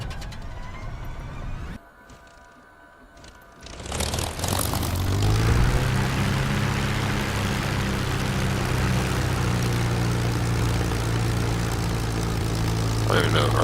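Propeller fighter plane engine in the video game Warbirds, a brief lull then the engine revving up to a loud, steady droning roar with rising tone as it takes off, with talk over it.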